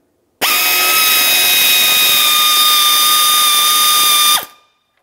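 Power tool whine while 10mm headed bolts come out of a 2009-2019 Ford Flex front grille, one sustained loud high-pitched drill or impact run of about four seconds, steady throughout, then stopping abruptly, with no talk.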